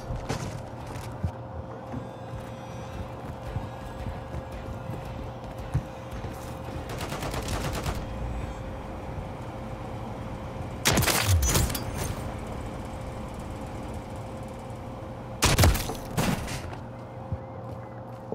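Gunfire in the Call of Duty video game: several loud bursts of shots crack out near the middle and toward the end, over a steady game soundtrack and background noise.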